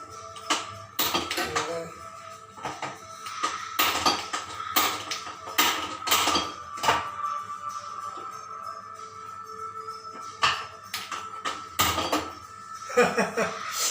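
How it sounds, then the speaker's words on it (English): A pressure cooker lid clatters and clanks as it is handled and closed, a series of sharp metallic knocks and scrapes close by, broken by pauses, with kitchen movement around them. "Here is the lid. I'll just close it."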